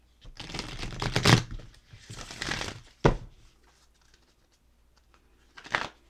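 A deck of moonology oracle cards is riffled and shuffled up close in two longer bursts, followed by a sharp tap and a final short flurry of card noise, with no talking.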